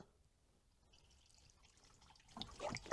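Coolant trickles through the opened tap of a filling funnel while topping up a BMW E46 cooling system with a new radiator, starting faint and quiet, then a closer, louder gurgling flow swells near the end.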